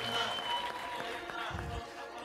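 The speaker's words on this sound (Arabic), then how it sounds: "صفقوا لهم تحية كبيرة، عليكم أمر الله أن تصفقون" Audience applause at a comedy stage play, heard as a dense wash of clapping from a crowd, fairly faint and continuous, with a voice talking over it.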